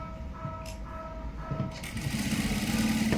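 Sewing machine running steadily as it stitches a cross-cut piece of cloth, a continuous mechanical whir that grows slightly louder and more rhythmic toward the end, close by with no talking.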